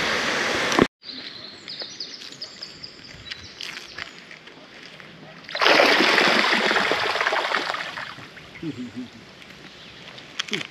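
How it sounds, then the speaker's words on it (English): A small man-made waterfall spills steadily into a lake, a broad continuous rush that swells louder midway, with birds calling and voices speaking over it. "They make a little waterfall, comes in there."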